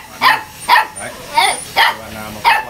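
Puppies, likely Phu Quoc dogs, yip and bark in five separate sharp bursts at a fairly even pace, close and loud, with some faint background noise between barks.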